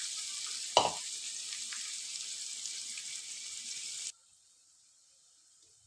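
Onions fry in hot oil in a pan with a steady, bright sizzle and one brief clatter of stirring, before the sound cuts off abruptly into near silence.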